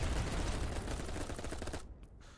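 Dense video game gunfire, a rapid automatic burst that is loud and continuous for about two seconds before cutting off abruptly.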